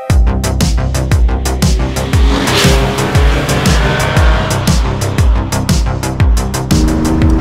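A Porsche 911 Carrera 2.7 RS Touring driving on the roads around La Turbie, its engine loud and close, revving up and dropping again in a quick, repeated rhythm of gear changes.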